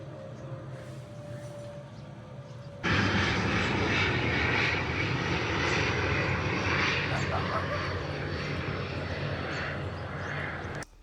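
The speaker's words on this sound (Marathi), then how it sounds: "पप्पा विमान आहे का आवाज येतो विमानाचा" An airplane passes overhead; after a quiet stretch with talk, a loud broad engine roar comes in abruptly and holds steady for several seconds before cutting off, with voices underneath.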